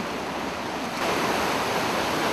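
A waterfall in Thailand pours steadily, a dense broadband rush of falling water that swells slightly louder partway through, close and continuous with no voices.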